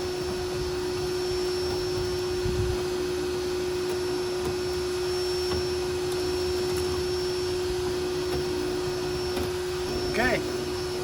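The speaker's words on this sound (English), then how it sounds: "And there's more, so now we gotta vacuum." A vacuum cleaner cleaning a rusty car fender runs with a steady high-pitched whine and constant motor drone, fairly close, with a brief bump of handling noise.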